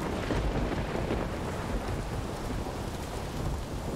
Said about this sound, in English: but it doesn't always thunder like this, does it?